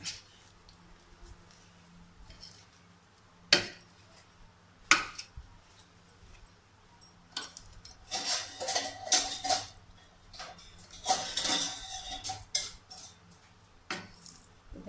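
Ingredients for Pesaha appam batter are mixed by hand in a bowl, giving scattered soft scrapes and clinks, then a denser stretch of wet squishing and stirring, close and with no talk.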